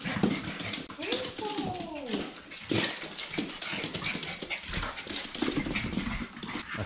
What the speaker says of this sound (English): often featuring this dog.